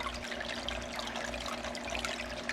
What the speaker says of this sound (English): There's the power head right there working. So that keeps the water aerated also.